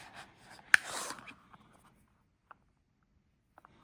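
A dip pen nib drawn across paper to swatch a bottle of Wearingeul Age of Innocence ink: one short burst of soft scratchy writing, then a few faint isolated ticks in near silence, close and quiet.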